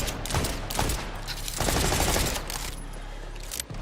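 Rapid pistol gunfire in the shooter game Borderlands 4, fired with a double-ammo mod and a 13-round magazine: bursts of sharp shots crowd together in quick volleys that run through the whole stretch at a steady loud level.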